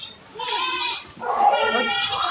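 Goats bleating in a village farmyard while they are being tied up, two wavering calls close by with a voice talking over them.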